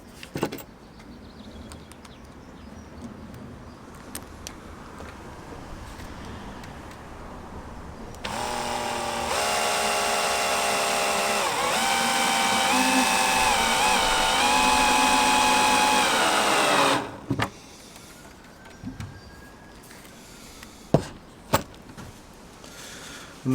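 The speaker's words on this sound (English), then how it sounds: "And then finally we're just going to screw through this into the bottom," A power driver drives a screw through a poly beehive into its bottom, a loud continuous motor whine lasting about nine seconds, preceded and followed by scattered handling clicks and knocks.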